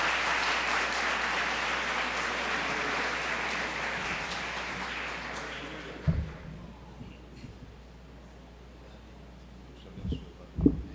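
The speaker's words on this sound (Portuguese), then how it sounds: "Eu quero que você possa saudá-lo com uma salva de palmas." Applause from a church audience welcoming a guest speaker at a theological week event, dense clapping for about six seconds that fades out, leaving a quiet room with a few soft thumps.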